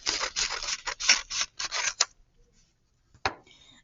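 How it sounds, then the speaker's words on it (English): Scissors cut paper in a quick series of crisp, close snips, then stop, followed by a single short rustle near the end, with no talk. "we're going to cut up that vertical line"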